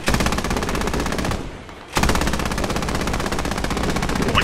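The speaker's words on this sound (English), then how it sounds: "firing!" Sustained automatic gunfire from the military shooter video game Squad, a loud dense rattle of rapid shots that drops out briefly for about half a second before resuming just as heavily.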